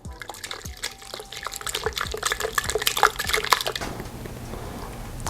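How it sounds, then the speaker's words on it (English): Water poured into a thick mixture, a close trickling and splashing pour with small drips that runs for a few seconds, then stops and leaves a quiet tail. "Add a bit of water in there."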